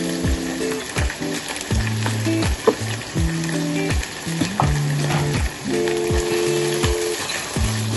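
Spice masala with a pinch of salt fries in hot oil, giving a constant close sizzle and crackle, while steady tonal humming sounds drift underneath throughout.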